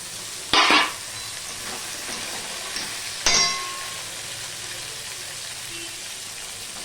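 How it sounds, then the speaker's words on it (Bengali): Green jackfruit dropped into a pan of frying ginger and green chili, with two sharp splattering bursts followed by a steady, moderate sizzle and a faint clink of utensils. "কাঁচা লঙ্কা আদা ফোড়নগুলো হয়ে গেছে এবার দিয়ে দিচ্ছি আমি এঁচড়"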